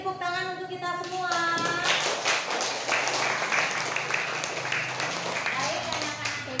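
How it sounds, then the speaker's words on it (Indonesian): Children clap together in a classroom, a steady burst of applause that runs the whole few seconds, loud and close, with an adult voice talking over it at the start. "Oke ya, beri tepuk tangan untuk kita semua."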